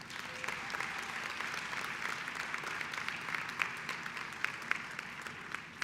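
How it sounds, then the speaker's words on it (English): Steady applause from an audience at a student academic excellence awards ceremony, moderately distant and continuous, with a few sharper individual claps standing out near the end. "let's keep clapping"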